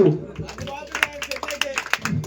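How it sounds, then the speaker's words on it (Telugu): A small group claps briefly at a gathering, a short burst of quick scattered hand claps over about two seconds, with a voice talking faintly over it. "చప్పట్లు."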